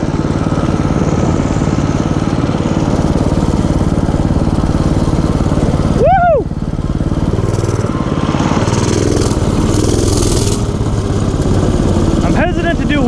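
A motorcycle engine droning loud and close throughout, steady with slight surges while the rider attempts wheelies, with a person briefly talking over it midway.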